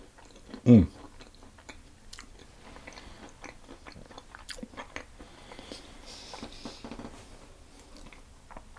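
A pecan shortbread square is bitten with one distinct crunchy bite, then chewed softly at close range for several seconds, with faint, quiet mouth sounds.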